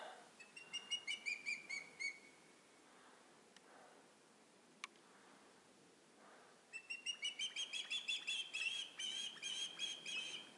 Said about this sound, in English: Those are hawks.